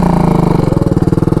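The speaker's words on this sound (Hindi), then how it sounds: "ये देखो भाई मेरी बाइक ले जा रहा है चलाने के लिए।" A motorcycle engine runs close by as a friend rides off on the speaker's bike, its steady low mid-pitched chug turning into a rhythmic pulsing throb partway through, loud and without talk.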